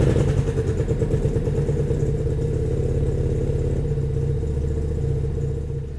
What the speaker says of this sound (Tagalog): Pipe configuration coupled with the V-twin engine make the sound of this bike the sweetest among any bike in this category.